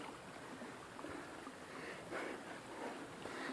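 A small roadside stream runs steadily along a path to a waterfall, giving a continuous, moderately close wash of flowing water with no talk over it.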